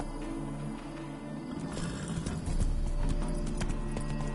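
Roach, a video game horse, runs with rhythmic clip-clopping hooves and a brief whinny, steady and moderately close over a low game soundscape.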